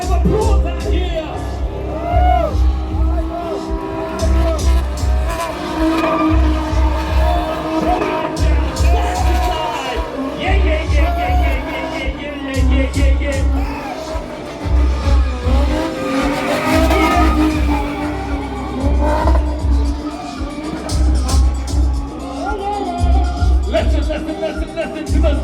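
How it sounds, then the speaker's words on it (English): Loud, continuous engine roar from a BMW E30 six-cylinder race car at the BMW M Fest show, revving and rising and falling close by, with tire squeal and crowd noise mixed in. "Listen to those musical notes performed by the 6-cylinder."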